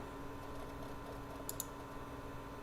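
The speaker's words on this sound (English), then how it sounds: "And you can just start clicking." A computer mouse clicks twice in quick succession while a polygon selection tool is used, crisp and close, over a steady low background hum.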